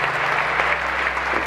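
A concert audience applauds an orchestra, dense and close clapping that holds steady from start to finish.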